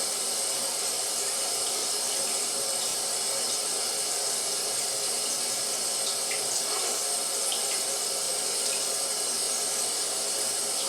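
Water runs steadily from a tap as a constant close hiss throughout, with no voices over it.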